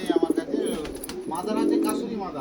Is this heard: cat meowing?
no